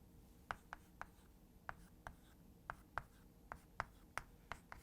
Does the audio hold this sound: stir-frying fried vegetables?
no